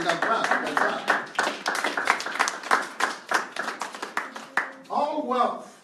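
Audience clapping during a sermon, a burst of sharp hand claps in quick succession filling most of the moment, then dying off as a voice comes back in near the end.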